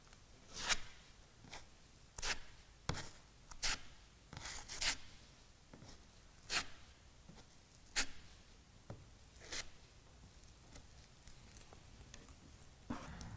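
A spreader scrapes filler across a boat hull surface in repeated short, rasping strokes at an irregular rhythm, close by and fairly quiet.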